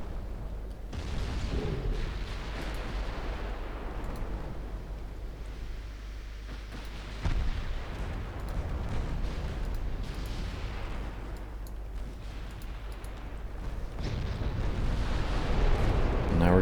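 Incoming battleship gunfire in the naval warfare game Ultimate Admiral Dreadnoughts, with heavy low booms and rumbling impacts rolling over a continuous roar of sea and battle ambience that builds toward the end.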